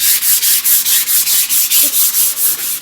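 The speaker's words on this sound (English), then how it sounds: "take the sandpaper that I gave you in your kit and just really lightly with the grain of the wood" Sandpaper is rubbed lightly along the grain of painted wood in steady back-and-forth strokes, about a dozen close, even scratching passes with no talking.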